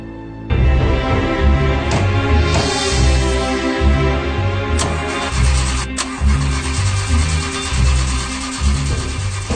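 A car engine cranks repeatedly in rhythmic starter bursts, loud and close, churning over and over without catching into a steady idle.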